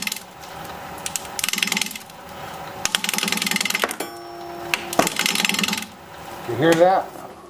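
A wooden pepperwood bowl blank spins on a lathe at about 635 RPM under a 5/8 inch bowl gouge, with rhythmic rattling and clattering bursts, sharp knocks as a big piece breaks off, and a brief voice near the end.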